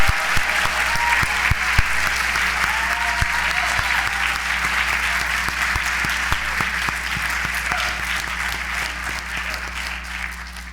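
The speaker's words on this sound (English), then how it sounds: "A round of applause." Sustained applause from a seated audience at a college of medicine White Coat Ceremony honoring the class of 2024, a steady dense wash of clapping lasting throughout with a low constant hum beneath and scattered louder claps.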